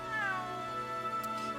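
A house cat lets out a single drawn-out meow that rises and then slowly falls, close and clear, with a faint rustle near the end.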